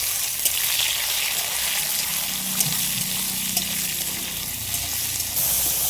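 Chopped garlic, onion, tomato and green chillies fry in hot oil with a steady, close sizzle and crackle that runs evenly throughout, with no talking.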